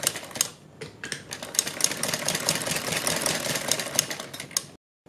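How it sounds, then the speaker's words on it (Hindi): A sewing machine runs steadily, stitching piping along the hem of a salwar, giving a dense, fast mechanical whir that stops briefly near the start and cuts off just before the end, with no talking. "पाइपिंग के बिल्कुल बराबर में हमें सिलाई लगानी है।"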